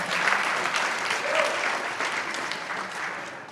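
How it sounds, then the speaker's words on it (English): Sustained applause from a crowd at a startup investment summit event in Calgary, dense even clapping that stays loud and gradually tapers slightly toward the end. "Let's give them a round of applause as well."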